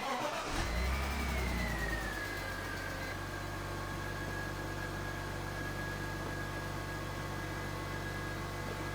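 A BMW engine cranks and catches, then settles into a steady idle with a high whining tone drifting down in pitch, close and continuous for several seconds with no talking.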